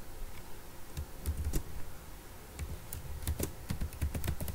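Java code is typed on a computer keyboard in a steady scatter of crisp, close key taps over a low room hum, with no talking.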